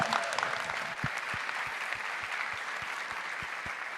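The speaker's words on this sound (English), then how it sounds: "I want a round of applause again for Sam." Audience applause fills a room for a beauty-products meeting, steady dense clapping at moderate distance with a few sharper individual claps standing out near the end.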